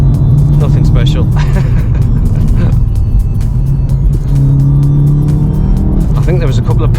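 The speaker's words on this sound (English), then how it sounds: "I think there was a couple of pops from the exhaust there." A 315 hp VW Golf GTI Mk7.5 accelerates from the cabin, its engine rising and falling through revs with a few sharp pops and crackles from the exhaust, while someone talks over it.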